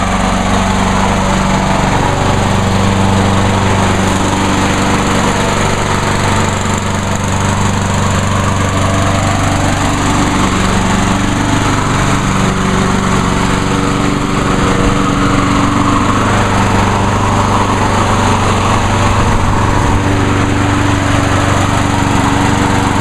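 A Craftsman lawn mower engine with a failed choke runs steadily and loudly up close, a continuous droning roar that holds for the whole stretch without a break.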